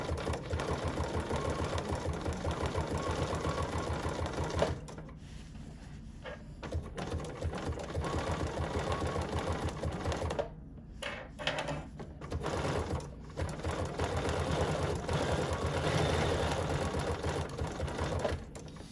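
A sewing machine runs straight stitches under a stitch regulator, appliquéing around a fabric leaf on a quilted notepad holder: a steady, rapid mechanical chatter that stops briefly and restarts several times.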